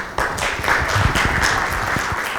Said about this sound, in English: Ladies and gentlemen, could I ask you to give me a round of applause?